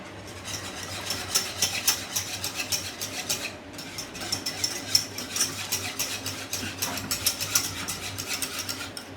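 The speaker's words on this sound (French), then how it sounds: "Là, à partir de là, il faut tout le temps fouetter" A whisk works béchamel sauce in a pan, giving steady rhythmic scraping and light metallic clinks that pause briefly and then resume, with no talking.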